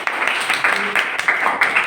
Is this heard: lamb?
no